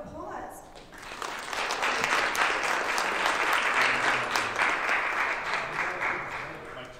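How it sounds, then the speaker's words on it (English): Applause for a speaker at a sustainability academy event swells after a brief start and holds steady from a mid-sized audience, with a voice faintly present at the opening. "So give Nachie a round of applause."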